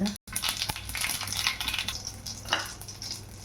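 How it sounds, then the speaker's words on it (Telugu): Cumin and mustard seeds splutter in hot oil with steady crackling and scattered sharp pops, close and fairly loud, continuing throughout after a brief dropout near the start. "ఆయిల్ హీట్ అయినాక జీలకర్ర, ఆవాలు చిటపిటలు ఆడినాక"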